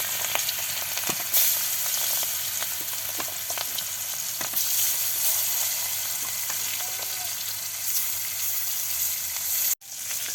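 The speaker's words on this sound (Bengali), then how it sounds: "তেল গরম হয়ে গিয়েছে, তো এখন মেখে রাখা মাছগুলো দিয়ে দিচ্ছে।" Marinated fish fries in hot oil, a loud, steady crackling sizzle with occasional sharp pops, ending abruptly in a brief cut near the close; nobody speaks.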